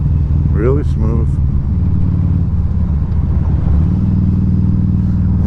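A 2012 Harley-Davidson V-Rod Muscle V-twin rumbles steadily at cruising speed, a loud, smooth, continuous engine drone with a rider talking over it.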